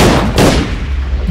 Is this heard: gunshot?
yes